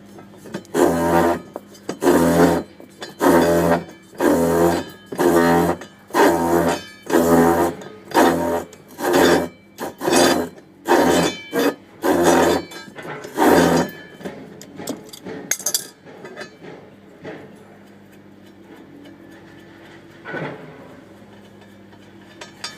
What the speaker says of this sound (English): grab our wrench again, and we'll go ahead and just loosen the prop up